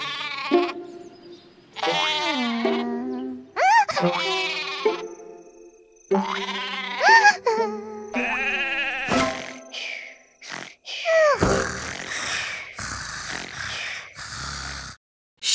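Cartoon sheep bleat repeatedly in a children's counting cartoon, short comic bleats and snorts mixed with boings and other goofy effects, each burst separated by brief pauses.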